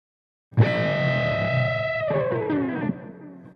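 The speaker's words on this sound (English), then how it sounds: "he slides that down while still holding the bend" A distorted electric guitar strikes a bent double-stop that rings out, then slides downward in pitch while the bend is held, fading at the end.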